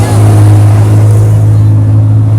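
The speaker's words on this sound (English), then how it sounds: "All the trucks are too loud." Loud trucks rolling past on a city street, a heavy continuous low engine drone with rumbling traffic noise filling the whole stretch.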